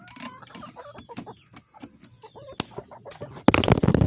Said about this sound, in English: I do like to give the chickens treats